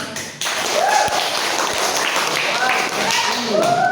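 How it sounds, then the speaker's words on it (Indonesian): A classroom of students clapping hands together, dense group claps across a few seconds, close and fairly loud, with voices talking over and around the clapping. "tepuk tangan"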